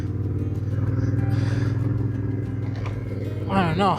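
A Yamaha Tenere motorcycle being ridden through Central California, its engine a steady, close droning hum under someone talking throughout, swelling briefly near the end.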